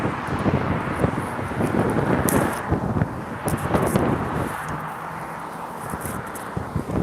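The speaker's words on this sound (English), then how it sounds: "My hat just fell off. It's so windy." Gusty wind buffets the microphone in rough, uneven bursts, a loud blustery rumble that rises and falls throughout.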